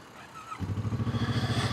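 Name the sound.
Kawasaki Vulcan S 2025 motorcycle with aftermarket exhaust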